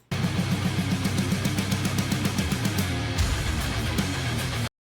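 Heavy metal song, driving distorted guitars with rapid, steady drum hits and a dense, loud mix that stops abruptly.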